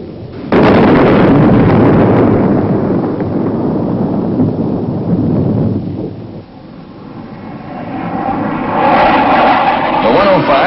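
Bomb detonation from a delayed drop off a tactical aircraft: a loud, sudden boom bursts in and rolls on as a long, rumbling roar that fades midway, then swells again with a broad rushing, wind-like noise.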